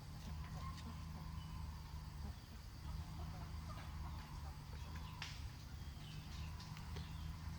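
Chickens on a Thai farm sunning themselves in the yard, including ornamental show breeds, with scattered clucks over steady low background hum; speech-like voices occur faintly in the background.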